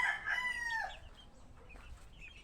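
A Black McRae gamefowl rooster crows once, loud and close with a long drawn-out call, fading into quieter farmyard background sounds.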